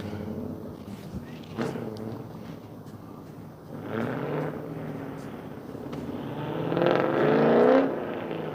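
A car with a loud exhaust drives past at night near rock walls where people are fishing. Its engine rises and swells over several seconds, getting louder toward the end, with faint voices now and then.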